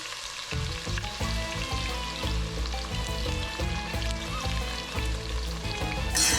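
Onions fry in hot oil with a loud, continuous close sizzle and crackle, the bubbling rising toward the end, with no talking over it.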